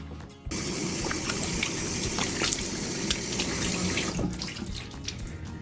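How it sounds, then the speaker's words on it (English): A bathroom sink tap runs steadily as someone rinses their face, a close, bright, continuous rush of water with small splashes breaking through, cut off cleanly before the end, leaving faint dripping. "So now I'm going to go ahead and rinse off."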